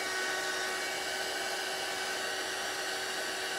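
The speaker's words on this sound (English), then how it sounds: "just let the heat tool do its job" A heat tool blows hot air over a paper craft card, giving a steady, even whooshing drone with no talking.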